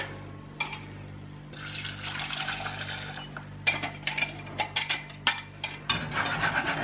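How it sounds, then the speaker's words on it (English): Liquid is poured back into a kitchen bowl, with a steady trickling splash followed by a run of sharp clinks and knocks against the bowl, fairly close and with no talk. "Right, so then we'll pour this back in,"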